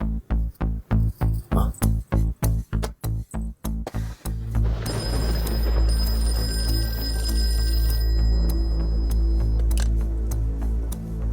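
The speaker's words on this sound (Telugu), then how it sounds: "నేను రాజుగాడికి ఫోన్ చేసి వస్తా" A telephone rings in a rapid repeating burst of about a dozen short rings, then gives way to a loud, steady electronic drone with high tonal beeps.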